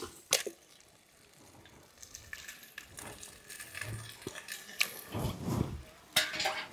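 Pieces of washed chicken go into fried masala in a pan for a gongura and chukkakura chicken curry, bringing clattering metal pan and utensil knocks, a soft sizzle and stirring scrapes, with a louder burst of clatter near the end.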